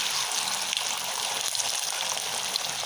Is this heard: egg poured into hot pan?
yes